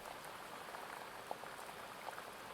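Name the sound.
heavy rain pounding on a glass dome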